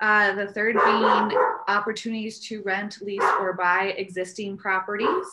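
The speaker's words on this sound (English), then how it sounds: "I'm sorry about my dog in the background." A dog barks and yips in the background at home during an online board work session, its sounds largely masked beneath continuous talking in the foreground.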